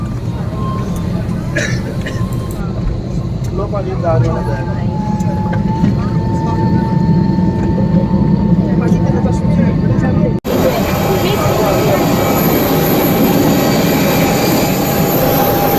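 Jet airliner engines drone in the cabin during a night landing at Amritsar, a steady loud roar that shifts abruptly to a brighter, harsher rush partway through, with someone speaking over it.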